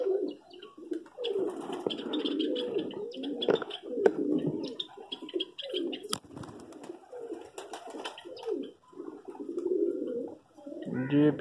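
Pigeons coo steadily near their cage, soft throaty burbling calls repeating and overlapping at close range, with faint chirps and small clicks between them.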